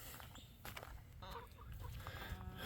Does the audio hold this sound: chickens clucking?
yes